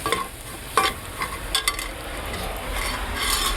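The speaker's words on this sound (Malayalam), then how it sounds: "വെളുത്തുള്ളി, കരിയാപ്പില ഇതെല്ലാം കൂടെ എണ്ണയ്ക്കകത്തിട്ട് വഴറ്റും." Garlic, curry leaves and chilli powder sauté in hot oil for a fish curry, giving a close, steady sizzle broken by a few stirring scrapes and taps.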